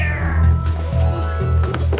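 A cat meows several times in quick succession, close and fairly loud, with drawn-out, wavering cries and no talking over them.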